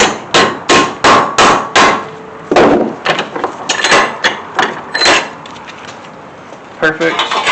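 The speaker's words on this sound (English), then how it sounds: "Now I'm going to bend this piece at that angle." A hammer strikes a sheet-metal muffler cover to bend it: a quick run of sharp, ringing metallic blows, then a looser series of lighter, irregular hits, loud and close.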